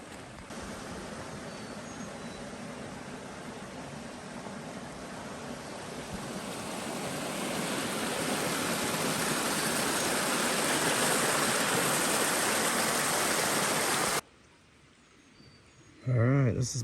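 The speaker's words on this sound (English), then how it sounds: "where water just comes up out of the ground. Flows out right there." Natural spring water wells up out of the ground at Buffalo Springs in Chickasaw National Recreation Area, a steady broad rushing and gurgling flow that grows louder over several seconds, then cuts out abruptly near the end.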